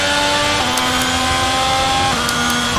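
Formula 1 race cars in the F1 2022 video game scream past at the Singapore Grand Prix, a loud, sustained high-pitched engine whine with pitch shifts as cars pass and shift gears.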